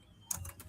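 Keystrokes on a computer keyboard, a few quick clicks close by and fairly quiet, starting after a brief silent lead-in.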